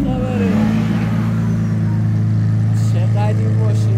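A matte black Lamborghini Aventador with a 12-cylinder engine runs in Tehran, a steady low engine drone holding under someone talking close by throughout.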